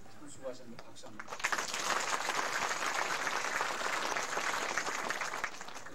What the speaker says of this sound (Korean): 수고하셨는데 박수 한번.